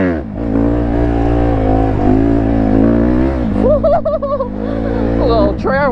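A mini bike engine revs and drones close by on a trail, its pitch rising and wavering, while people talk over it.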